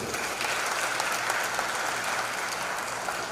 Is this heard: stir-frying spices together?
no